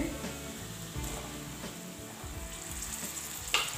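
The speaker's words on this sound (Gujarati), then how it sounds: "ડુંગળીને સાતરવા દઈશું" Sliced onions sautéing in oil with masala for cheese pav bhaji, a steady close sizzle and frying hiss with occasional stirring scrapes, no talking.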